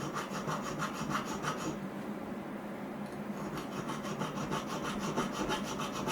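A hand file scrapes back and forth across a small metal collet part, giving close, steady, rhythmic rasping strokes that pause briefly midway before resuming.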